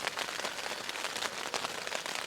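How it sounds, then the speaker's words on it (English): Cold rain falls on an ALPS Mountaineering Zephyr one-person tent, a dense, close, steady patter of drops across the fabric with no voices. "It's gonna be a cold rain."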